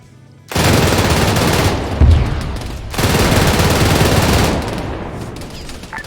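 Sustained automatic gunfire in a military video game, two loud, close bursts of rapid shots separated by a brief pause, then fading out.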